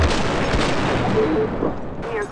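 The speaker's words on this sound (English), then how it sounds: "Shots fired." Gunfire in GTA 5 with the LSPDFR police mod, a rapid cluster of shots ringing out over game ambience with a voice speaking nearby.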